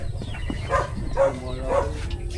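A dog barks and yelps in a few short, sharp bursts at close range, with faint background noise and no clear talk.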